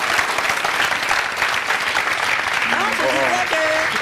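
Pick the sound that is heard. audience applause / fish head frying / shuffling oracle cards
audience applause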